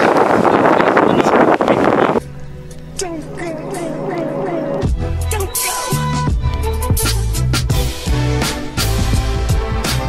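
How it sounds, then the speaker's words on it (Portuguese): Strong wind buffets the microphone at a beach with unusually intense waves, a loud roaring rush for the first two seconds, then the scene changes to softer layered sounds with tonal music-like patterns. "Já viemos aqui à praia, está bastante vento e nunca vi as ondas assim"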